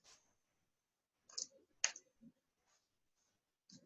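A few sparse, light clicks from a computer keyboard, irregular and close, with quiet gaps between the keystrokes.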